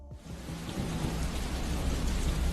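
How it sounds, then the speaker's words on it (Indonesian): Heavy rain pours steadily at night, a dense continuous wash of drops with a low rumble beneath, alone and without any voices. "Tengah malam gelap, di saat hujan turun deras"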